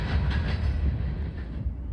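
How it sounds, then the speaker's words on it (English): A CSX CM44AC locomotive leads a freight train over Norfolk Southern tracks in central Georgia, rumbling loud and close with a steady low roar and faint wheel clatter throughout. "There was something very odd about seeing this CSX locomotive cross on NS tracks here"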